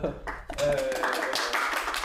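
People clap their hands at a school podcast chat about a student arts performance, a scattered, noisy patter of clapping running under ongoing talk for a couple of seconds.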